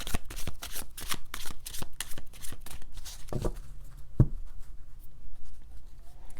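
Tarot de la Nuit cards being shuffled by hand, a run of crisp riffling snaps close up, then a softer shuffle and a single sharp slap of the deck, with no talking.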